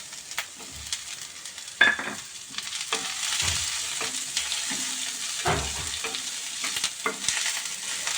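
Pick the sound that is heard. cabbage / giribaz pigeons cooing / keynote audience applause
cabbage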